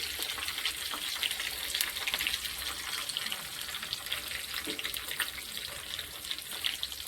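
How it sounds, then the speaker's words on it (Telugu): Garlic cloves frying in hot oil give a steady, dense crackling sizzle that stays close and even for the whole stretch, with no voices over it. "కొన్ని వెల్లుల్లి రెబ్బలు, బాగా వేగనివ్వాలండి."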